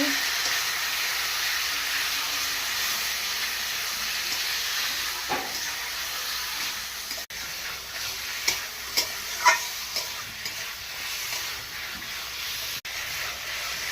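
Chicken curry being stirred in a hot pan, a low steady sizzle with scattered scraping and clinking of a spoon against the pan, fairly quiet and without talk.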